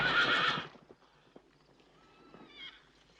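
Horses in a 1971 western setting give a loud close whinny at the start, then hooves clip-clop in scattered soft steps, with faint creaks and movement continuing underneath.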